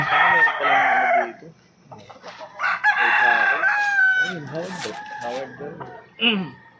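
Golden gray gamefowl roosters at a game farm in Baguio crow loudly and nearby, with one long crow followed by further crows and clucks. Someone talks between and over the calls.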